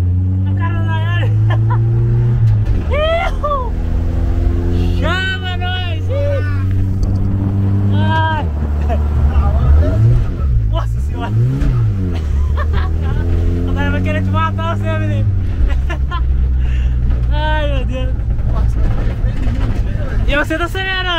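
A Volkswagen Caravan engine revs and accelerates loudly throughout, its rising and falling drone continuous under excited, overlapping voices and laughter from people riding inside.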